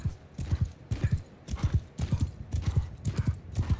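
Horse hooves galloping over wet ground in a Mount & Blade II Bannerlord battle, a rapid, steady clip-clop rhythm of several mounts, fairly close, with no talk.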